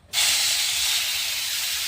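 Water poured onto sugar in a hot pan for caramel bursts into a loud, steady steam hiss that starts abruptly and holds at full strength to the end, with no talking.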